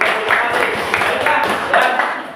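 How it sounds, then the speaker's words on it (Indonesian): A school class gives a steady round of applause, dense overlapping hand claps filling the room at moderate loudness with a slight swell near the end. "Ya, tepuk tangan."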